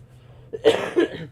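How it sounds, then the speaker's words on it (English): A single close cough, sharp and breathy, after a moment of near quiet. "It's that leftover COVID cough."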